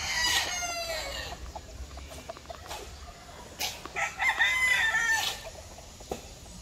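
Gamefowl roosters on a Mount Banahaw farm crow repeatedly, some near and some further off, with clucking and farmyard background noise between the calls.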